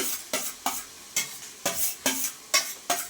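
Tomatoes sauté for biryani in a hot pan, with a steady sizzle broken by rhythmic scraping strokes of a spoon stirring about every third of a second, close and fairly loud, with no talking.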